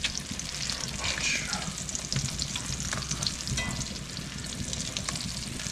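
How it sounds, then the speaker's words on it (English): Crappie fillets lightly frying in a pan, giving a dense, continuous close sizzle with crackling pops and a few spatula scrapes, steady throughout with no talking. "Just a light fry on these."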